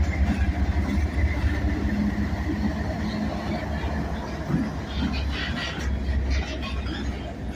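Low, continuous rumble and clatter of a freight train with covered grain hoppers rolling past near Greenwood's Maxwell yard, steady and fairly loud, with faint higher squeals over the drone.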